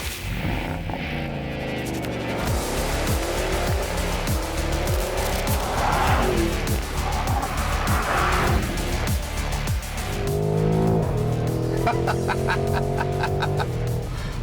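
A loud, throbbing Porsche Cayenne Coupe GTS exhaust revs and burbles up and down continuously through black tailpipes, with rapid popping pulses and a rising growl toward the end.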